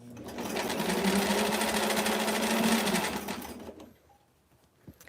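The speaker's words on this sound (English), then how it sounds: "Now, you'll notice I'm sewing right over my pins" A sewing machine stitches fabric straight over pins while finishing a doll's square dance dress, running in one steady whirring burst for about three seconds before stopping, followed by a faint click.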